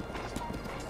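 Rhythmic clip-clop of horse hooves from Breath of the Wild game audio, steady and fairly close amid a dense ambient background, with a faint whinny blended in.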